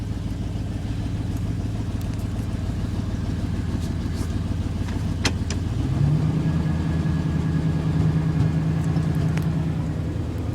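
A 1988 Chevy truck engine runs steadily after a cold start, a close, constant idle hum that shifts up in pitch partway through as the revs rise slightly, with no talk.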